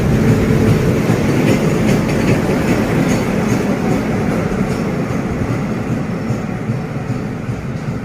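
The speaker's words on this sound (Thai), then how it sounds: "ก็เป็นรถหินนะเกี่ยวกับการก่อสร้างทางนะ" A heavy ballast train carrying stone for track construction rumbles steadily past on the tracks in Thailand, close and loud, with a continuous rolling roar and faint rhythmic clacking of wheels.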